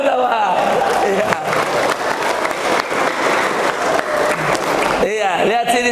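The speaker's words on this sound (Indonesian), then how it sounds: "Tepuk tangan dulu sama" An audience at an Indonesian religious sermon claps together in a loud, continuous burst, with a voice rising over the end as the applause fades.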